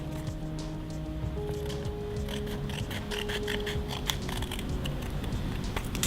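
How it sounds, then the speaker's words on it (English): Scissors snipping through a paper circle, a run of close, soft crisp cuts and rustles at a steady pace with no talking. "Now let us cut these 8 parts with the help of scissor."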